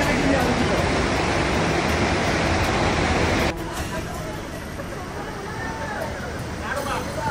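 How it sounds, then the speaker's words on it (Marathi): Satsada waterfall in Mahad, Maharashtra, dropping in seven tiers, a steady broadband roar of falling water that continues throughout, slightly quieter after a sudden shift midway, with faint voices in the background. "तुम्ही पाहू शकता हा आहे सातसडा वॉटरफॉल"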